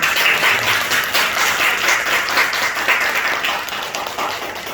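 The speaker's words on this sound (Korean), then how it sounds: "환영의 박수 한번." A church congregation at a Sunday worship service claps in welcome for a returning elder, giving loud, dense crowd applause that continues for several seconds and tapers slightly toward the end.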